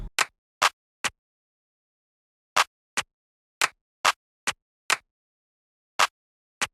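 Layered clap samples, Amir's Z2 clap stacked with a Vengeance clap from the Takeover kit, fire as crisp dry hits in an irregular, wonky pattern, about ten isolated claps separated by silence.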